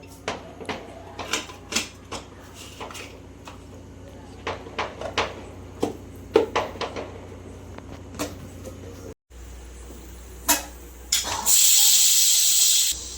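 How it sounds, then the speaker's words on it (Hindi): Pressure cooker of khichdi (rice and lentils) on a home kitchen stove, giving short sharp hissing bursts at irregular intervals before a sustained loud rush of escaping steam near the end. "कुकर लगा के 3 सीटी होने का वेट कर देती हूँ"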